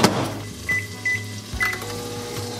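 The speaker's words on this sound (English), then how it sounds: "microwave." A microwave oven cooking minute rice, water and rice together, hums steadily with a low drone. Faint clinks and a few soft tones sound over it, close by.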